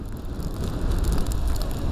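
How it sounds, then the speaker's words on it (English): Gale-force wind driving rain and snow in extreme mountain weather, a steady, loud, dense roar of gusting wind and precipitation with no break, no voices. "Blowing a gale, we've got snow, rain, everything."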